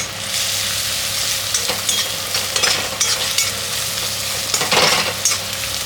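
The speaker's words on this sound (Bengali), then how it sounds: "এখন নাড়িয়ে দিই" Ground coriander and cumin powder fry in hot oil in a pan while being stirred, a continuous close sizzle broken by repeated scraping strokes of the spatula, with no voices.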